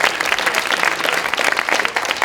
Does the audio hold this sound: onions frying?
no